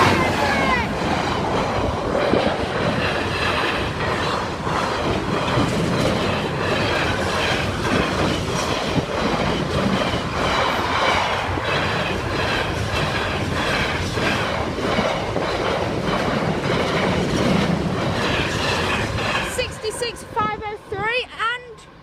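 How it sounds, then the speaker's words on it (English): Class 66 freight train rumbling across Church Lane level crossing, a loud, continuous clatter of wagons and wheels rolling past up close, with people talking over it before it fades at the end. "Oh no, it's a freighter."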